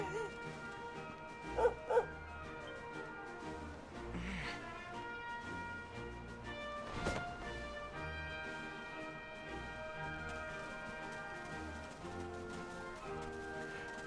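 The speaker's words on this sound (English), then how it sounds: "That noise! It's a dog!" Dog barks twice in quick succession, faint and somewhat distant, under a steady bed of music and background noise with talking.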